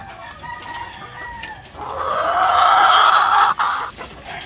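A farm hen, a laying hen in poor condition, clucks close by, rising from soft calls into a louder, drawn-out squawking cluck before trailing off.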